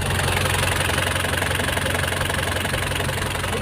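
A Nissan Big M pickup truck's diesel engine idling steadily nearby with a rough, knocking rattle and constant vibration, no voices.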